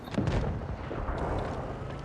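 A heavy cannon blast from a KV-1S tank in a video game, loud and booming at the start and then rumbling on with dense low-end noise, no talk over it.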